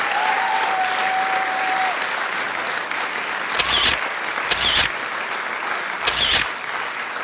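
Sustained, dense applause fills a cartoon scene at a steady, loud level. A few brief bursts of voice-like sound rise through the clapping toward the end.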